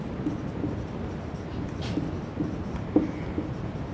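A teacher writes a sentence on a board during a lesson, producing soft, irregular scratchy strokes and light taps close by over a low background hum, with no speech.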